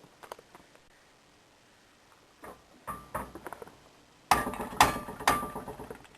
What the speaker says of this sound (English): You can hit it with a hammer or whatever if it's in a vise